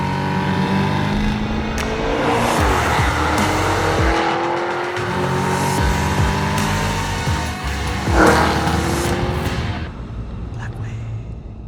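A 2022 Cadillac CT5-V Blackwing supercharged sedan drives hard nearby, its loud engine rising and falling through gear changes with brief tire squeal, a sharp burst near the end, then settling as the drive fades.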